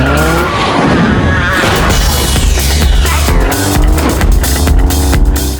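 Car tearing along at full throttle in a chase, engine roaring loud and continuous with tires squealing and skidding through the turns, a dense, close, unbroken stretch of racing noise.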